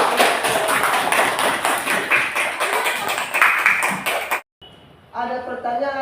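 Students in a classroom clap together in a quick, rhythmic, unison pattern of sharp close claps, which stops abruptly and is followed by someone speaking.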